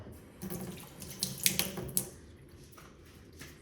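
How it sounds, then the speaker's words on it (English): Water from a kitchen tap runs onto a hand that is being wet before shaping bread dough, a soft steady stream broken by a few splashy spurts, close and fairly quiet. "I usually wet my hand"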